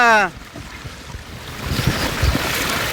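Floodwater rushes over a road in a strong current with a loud, steady roar, strengthening toward the end, after a brief tonal sound at the start, in Sunamganj, Bangladesh.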